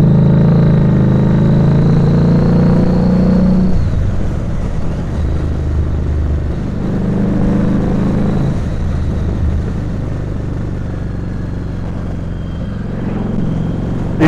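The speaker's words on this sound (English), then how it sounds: "The engine makes a lot of entertaining snaps and pops on diesel." Diesel-fuelled motorcycle engine running steadily with a deep, continuous rumble and rising revs, loud and close throughout with no talk over it; the snaps and pops are not clearly distinct.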